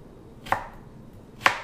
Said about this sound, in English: I'm cutting the skin off, and I'm putting a little piece of ginger in